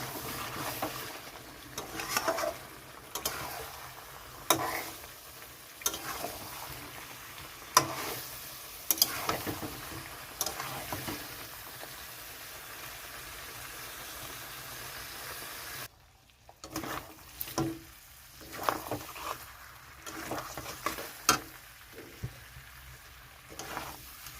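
Mutton being cooked down as kosha in a kadai sizzles steadily while a spoon repeatedly scrapes and stirs the bottom, giving a string of soft clicks and scrapes over a quiet frying hiss.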